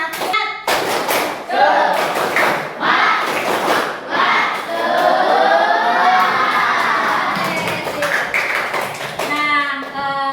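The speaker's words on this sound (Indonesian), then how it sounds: "Satu kali tepuk semangat" A class of students in a science lesson on density does a rhythmic spirit clap, with several sharp, loud claps in a pattern followed by children shouting and chanting together.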